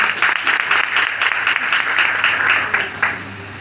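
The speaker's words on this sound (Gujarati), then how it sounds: "એવા બિપિન ગામિત સરના માટે પહેલા તો જોરદાર તાળી થઈ જાય" Enthusiastic audience applause for Bipin Gamit sir at a gathering, dense steady clapping with no talk, holding at an even level for several seconds before tapering at the end.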